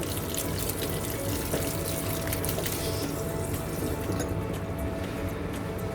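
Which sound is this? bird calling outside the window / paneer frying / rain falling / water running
water running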